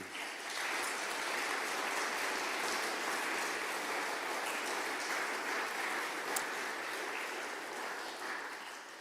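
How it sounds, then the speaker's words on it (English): Applause for Callum from a gathered crowd, a continuous, even wash of many hands clapping at moderate distance, sustained throughout and fading slightly at the end. "Callum needs a big round of applause"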